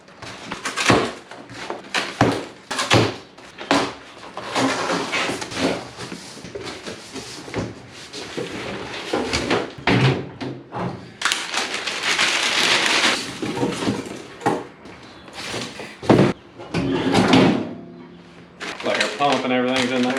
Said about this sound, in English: Let's go ahead and open up the box and see what we got inside here